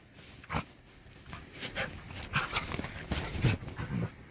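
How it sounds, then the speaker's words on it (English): Dogs play-wrestling nearby, with scuffling, thumps and brief whimpers and growls in irregular bursts throughout. "They're playing doggy wrestling."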